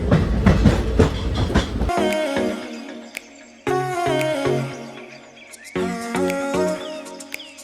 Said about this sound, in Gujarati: અત્યારે પાલનપુરથી ટ્રેન નીકળી ગઈ